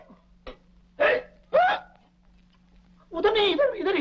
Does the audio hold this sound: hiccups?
yes